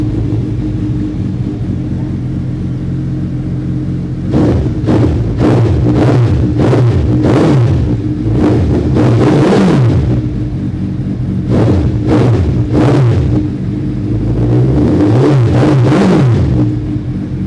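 A Kawasaki motorcycle with a Two Brothers Racing exhaust, idling with a deep rumble and blipped through a series of sharp throttle revs in clusters, loud and close.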